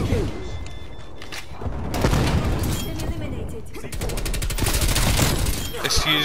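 Gunfire in Call of Duty Cold War multiplayer: dense bursts of automatic fire with booming impacts, loud and near, continuing across the whole stretch with a brief lull in the middle.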